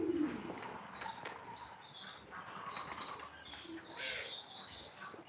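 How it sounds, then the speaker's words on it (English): French pigeons coo softly, with a low burst at the start and repeated chirpy calls layered over light background noise, fairly faint throughout and no speech. "French is a worldwide pigeon."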